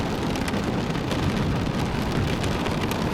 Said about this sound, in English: Why is it raining so heavily all of a sudden?